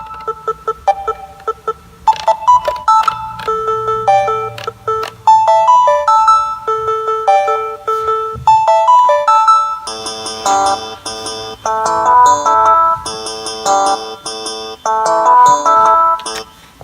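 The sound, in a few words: Yamaha Tenori-on sequencer notes with changing lengths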